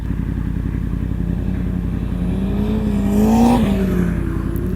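A cabriolet car driving past on a downtown San Diego street, its engine note swelling and rising as it nears, then falling away over steady traffic background, loud and close, with no talk.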